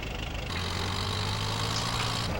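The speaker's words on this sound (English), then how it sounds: "but I have a tractor here, so I can take it with me." Tractor engine idling in GTA San Andreas, a steady low droning rumble with a constant hum, close and unbroken, with no talk.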